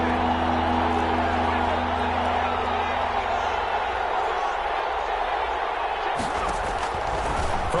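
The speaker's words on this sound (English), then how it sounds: "The crowd getting into it as we come up on a big 3rd down" Football stadium crowd in a video game swelling ahead of a big third down, a dense continuous roar with low rumbling tones that shifts character near the end, steady and fairly loud throughout.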